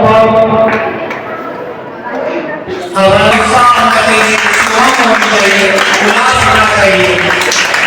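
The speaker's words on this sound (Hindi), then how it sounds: "एक बार जोरदार तालियों से आप स्वागत अभिनंदन करें।" Audience applause fills a school event marking the launch of a code club and robotics lab, a loud, sustained clapping that swells in after a few seconds and continues beneath an ongoing amplified voice.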